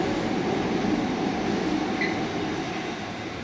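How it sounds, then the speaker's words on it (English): A Sydney train rumbles along quietly with a low, steady hum and faint wheel noise, no voices, the level constant throughout. "Trains are very quiet."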